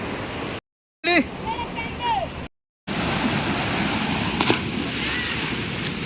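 A waterfall in a cashew forest roars steadily throughout, loud and close, with people talking over it near the start.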